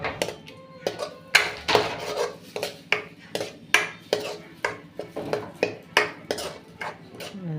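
Metal spatula scraping and clanking in a pan as mutton kothu rice with curry is stirred, a steady run of sharp rhythmic strokes close by with no talking.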